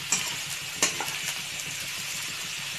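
Mixed vegetables of potato, beans and onion fry in a pan, giving a steady close sizzle with a few sharp stirring scrapes near the start and around the one-second mark.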